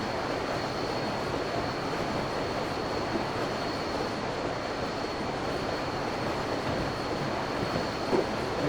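Train engine running in the Railworks video game, a steady, continuous rumble of rail noise with a thin high whine held throughout and no voices.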